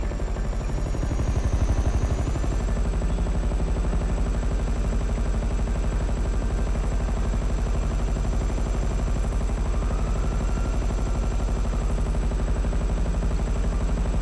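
A helicopter flies in the GTA 5 game, its rotor beating in a loud, continuous rapid chop with a steady high engine whine above it, heard alone for the whole stretch.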